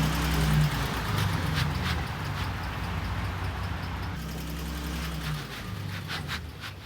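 Ford Raptor pickup truck idling and creeping while being reparked in a parking spot, a steady low engine rumble with faint ticking, close and continuous throughout.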